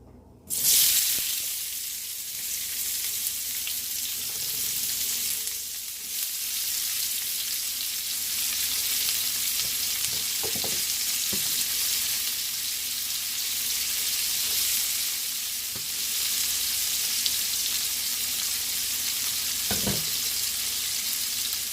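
Chopped onions frying in a pan with chorizo for a shrimp and chorizo saffron paella: a continuous loud sizzle and hiss, broken now and then by a soft stir or clink of the spoon, with no talking.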